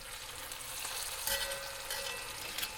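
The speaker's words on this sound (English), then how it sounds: "As you can hear, the butter is now crackling a bit." Butter crackles and sizzles in a cast iron pot with chicken, a steady fine hiss with small pops and one louder spatter in the middle, close and continuous with no talk.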